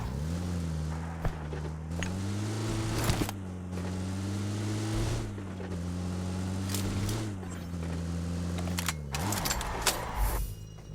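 Vehicle engine in the PUBG video game while driving, a steady droning hum whose pitch rises and falls as the car speeds up and slows, with occasional clicks and thumps over it.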